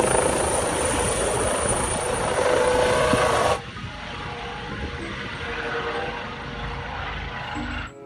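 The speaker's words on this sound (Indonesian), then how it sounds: "Ada helikopter warna merah." A red helicopter flies past, its steady rotor and engine drone loud and close before dropping in level partway through and continuing as a softer, more distant whir.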